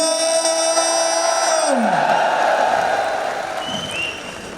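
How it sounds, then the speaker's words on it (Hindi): Audience applause and cheering at a youth program event in Delhi's Tyagraj Stadium, a steady loud crowd roar welcoming a speaker on stage, with music tones fading out partway. "और जोरदार तालियों के साथ स्वागत किया जाए। तालियों में कमी नहीं होनी चाहिए दोस्तों।"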